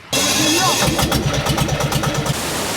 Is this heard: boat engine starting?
yes